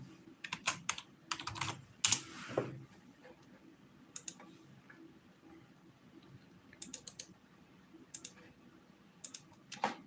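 Keys on a computer keyboard tapped in short irregular bursts, clustered clicks separated by pauses, close and fairly quiet, with no voice over them.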